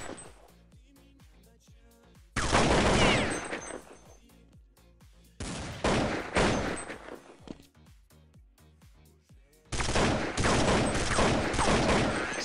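Gunfire in Counter-Strike 1.6 on the Dust2 map, with bursts of rapid automatic rifle fire in three loud sustained volleys separated by quieter stretches of scattered single shots and clicks; players talk in between.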